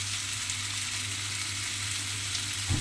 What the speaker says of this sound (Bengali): দিয়ে আলুটাকে খুব ভালোভাবে মশলার সঙ্গে কষিয়ে নেব।